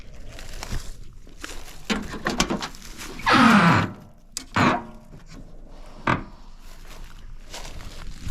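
Creaking, scraping pulls on the stuck door of a Mustang left parked for 32 years, with a few loud bursts of forced wood-like grinding and thumps over several seconds, close by, with no talk.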